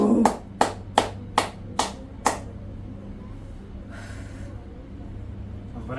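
Six sharp hand claps ring out in an even rhythm close by, followed by a quiet stretch with a brief breathy sound.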